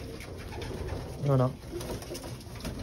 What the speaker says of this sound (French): un pigeon de vitesse